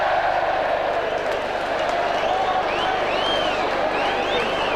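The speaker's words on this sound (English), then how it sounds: "Applause for the pass, certainly not for the shot." Home and away supporters at a 1999 FA Cup third-round match between Wrexham and Middlesbrough give a steady wash of applause and crowd noise, with a few whistles rising above the broad, constant roar.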